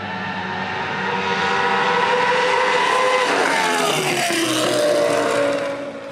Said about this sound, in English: Ryan, I mean, really the heart and soul of this car is that Judd V10.